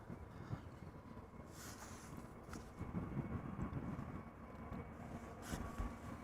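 Air Transat Airbus A321neo airliner at Amsterdam Schiphol Airport, a steady broad jet roar that holds continuously and swells slightly toward the end, heard from a distance with no talking.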